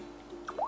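Water drop effect from a Samsung Galaxy S4 lock screen, a quiet single droplet plip with a rising bubbly tone near the end, heard alone over a faint steady hum.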